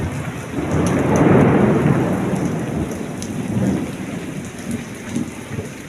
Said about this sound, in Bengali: দেখতে পাচ্ছেন রাতের আবহাওয়া রয়েছে বৃষ্টির সাথে প্রচুর পরিমাণে ঠান্ডা